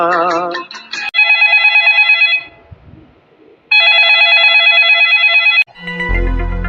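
A telephone ringtone plays in two loud, sustained melodic bursts separated by a brief quiet gap, with a short burst of other sound at the start and end.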